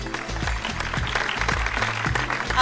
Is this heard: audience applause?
yes